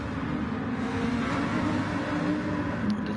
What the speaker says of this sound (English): It did sound like someone was wheel spinning their car sideways.